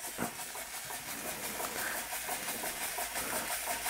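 An antique Weeden No. 38 model beam steam engine running under steam with a new crank and crank pin, giving a steady hiss with a rhythmic chuffing pulse throughout, close and fairly loud.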